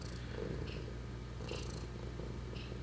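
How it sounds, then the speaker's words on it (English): A cat purrs close up in a soft, rhythmic rumble, each breath cycle rising and falling, with no voices. "so you might hear the purring occasionally"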